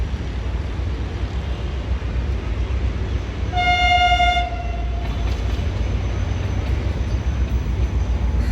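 A train arriving at Drigh Road railway station in Karachi, a steady loud rumble of wheels and engine throughout, with a single clear horn toot of about a second partway through.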